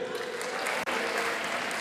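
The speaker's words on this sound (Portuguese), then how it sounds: "Quem pode aplaudir?" A church congregation applauds during a sermon, a steady dense wash of clapping with a brief near-silent gap midway, with no voices over it.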